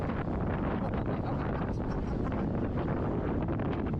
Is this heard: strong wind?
yes